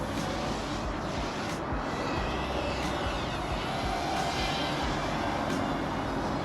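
An EMAX Babyhawk O3 drone in flight gives off a steady, airy whir mixed with wind noise, holding an even level throughout with faint swells in pitch.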